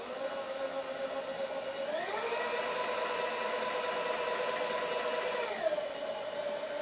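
A VEVOR power feed motor on a Bridgeport milling machine whirs steadily, then ramps up to a higher-pitched rapid traverse whine partway through and drops back down near the end, loud and continuous with no talking.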